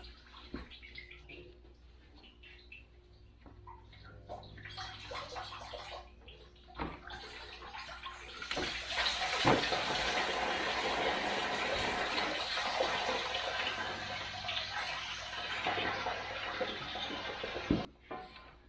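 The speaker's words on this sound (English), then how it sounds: "drain some more coolant here" Coolant drains out of a Toyota Land Cruiser's 3FE engine as a steady, close splashing gush of liquid that swells and keeps running, with faint handling noises around it.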